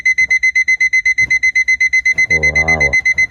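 An electronic timer for an engine's pump emits a rapid, steady train of loud, high-pitched beeps while being set, with a brief voiced sound near the end.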